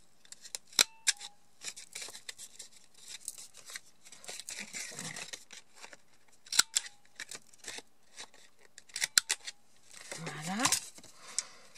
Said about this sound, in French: je vais arrondir les angles également au niveau de ma carte là